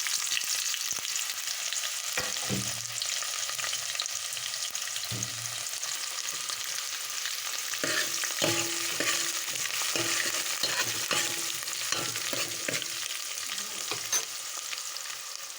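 Thinly sliced onions frying in hot oil in a pan with mustard seeds, a steady close sizzle with intermittent scraping stirs throughout.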